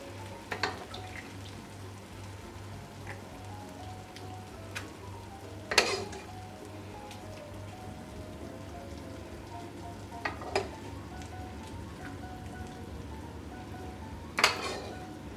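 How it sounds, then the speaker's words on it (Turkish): Soft, continuous sizzling and crackling of hot syrup hitting hot walnut baklava, with occasional sharp clinks of a pan or utensil over a low hum. "Tatlımız sıcak, ağdamız sıcak. Hemen ikisini buluşturuyoruz. Gördüğünüz gibi sesleri duyuyorsunuz"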